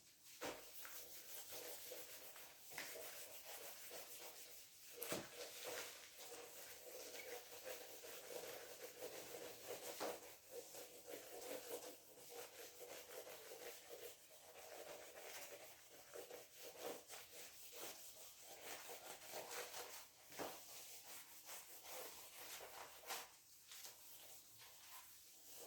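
A duster rubs writing off a classroom board in a steady, soft scrubbing swish that goes on without a break at low volume, with faint knocks now and then.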